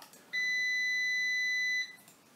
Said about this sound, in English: That's my meter making a beep.